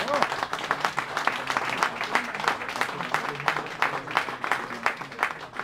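Audience applause fills a room at an ice hockey press conference after an EHC Bayreuth versus EV Regensburg game, steady and dense for several seconds with some voices mixed in.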